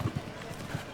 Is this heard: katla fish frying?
no